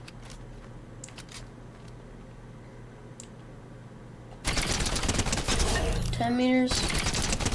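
A suppressed rifle with a vertical foregrip fires in Fortnite after a quiet stretch: dense, rapid bursts of muffled shots continue to the end, with a voice speaking briefly over the firing.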